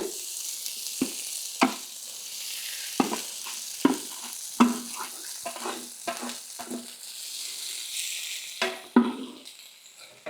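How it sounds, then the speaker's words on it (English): Potatoes frying on a hot oiled griddle give a steady sizzle, punctuated by repeated sharp scraping strokes of a spatula turning them, close up with no talking. "We're going to go ahead and throw our potatoes on there and let them fry up a little bit."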